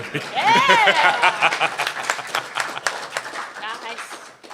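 Fan convention panel audience applauds for a songwriter, a crowd clapping that swells then thins out, with a voice talking and cheering over it near the start.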